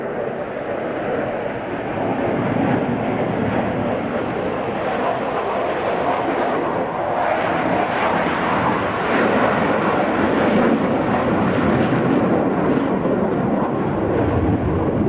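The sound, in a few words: RAF Typhoon combat jet display flying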